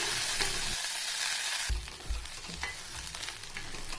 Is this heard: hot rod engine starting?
no